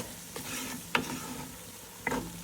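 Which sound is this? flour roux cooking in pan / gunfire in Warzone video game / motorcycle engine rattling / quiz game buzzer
flour roux cooking in pan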